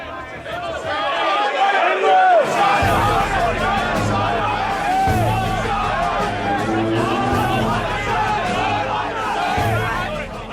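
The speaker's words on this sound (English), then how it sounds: "When you get 240 people in a trading crowd this tight, it gets so loud" A packed trading floor of about 240 traders shouting at once, a loud continuous roar of overlapping voices and calls that stays dense and close throughout.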